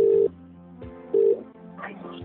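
Two steady electronic keypad tones sound a moment apart, with softer tones and faint background noise between them and no talking.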